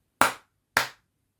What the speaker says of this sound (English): Now I can record myself clapping.